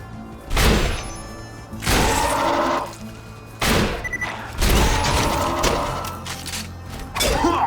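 A three-barrel gun in Borderlands 2 fires in loud, evenly spaced heavy blasts, about four or five in all, each a booming spread shot with a short tail before the next.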